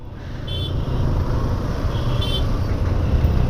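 Road traffic jam heard from a Yamaha FZS V3 motorcycle, with a continuous low rumble of engines and two short car horn toots early and midway through.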